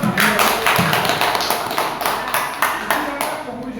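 A school audience at a program socialization session claps in a burst of sharp, closely spaced hand claps that run steadily for several seconds, fairly loud and near.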